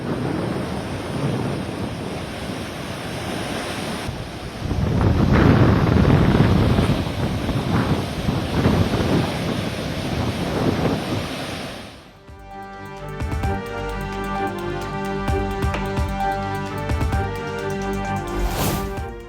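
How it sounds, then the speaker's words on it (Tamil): Rough sea waves roar and crash at Pattinapakkam beach in Chennai, a loud, continuous surf wash; partway through, the roar drops away and gives way to layered music. "6 அடி உயரத்திற்கு ஆர்ப்பரிக்கும் கடல் அலைகள்."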